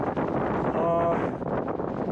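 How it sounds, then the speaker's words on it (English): Strong wind of about 45 mph buffets the microphone in a steady roar while motorcycle riding, with a brief faint tonal whine in the middle. "But this is pretty windy."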